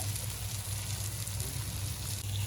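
Surmai (kingfish) frying in a pan, a steady, dense sizzle with a low hum underneath, continuous and fairly quiet throughout.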